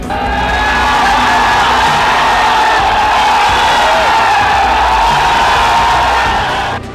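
A large crowd of fans outside Aluva sub jail, waiting for actor Dileep, cheers and shouts in a loud, unbroken roar that holds steady throughout.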